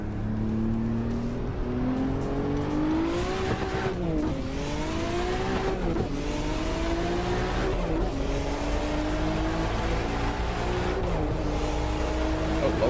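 A Volvo is driven in a racing or truck simulator game (Assetto Corsa or American Truck Simulator) on roads in Japan. The engine is loud and close, repeatedly revving up through rising gears with brief drops at each shift, and nobody speaks.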